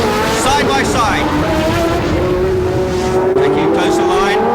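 1976 Formula 1 race cars accelerating hard through the gears at the US West Grand Prix, engines screaming high with a rising pitch, loud and close, with a race commentator talking over the roar.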